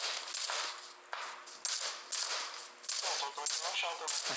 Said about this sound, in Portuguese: Opa, tá atirando em mim aqui.